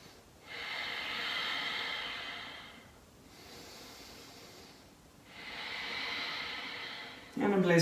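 Slow, deep breaths during a yoga session: two long airy exhalations, each lasting a couple of seconds, close and steady, with a brief quiet pause between them and a little talk at the end.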